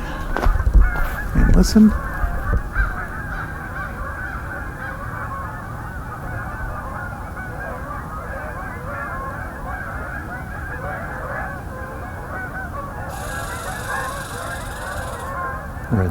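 A flock of Canada geese honks continuously overhead, a busy chorus of overlapping calls over steady outdoor ambience, with a brief voice near the start.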